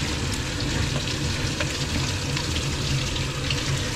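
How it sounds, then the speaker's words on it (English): Soapy water running steadily while a Cocker Spaniel's coat is scrubbed in a bath, a continuous close splashing rush with no voices. "So as I'm scrubbing the coat, this is clean soapy water that is coming out."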